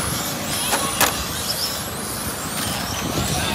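Two 1/10 scale touring RC race cars run up the straight close together at a race meeting, high whining motor tones rising and falling over a constant rushing background, with a few sharp ticks and no voices.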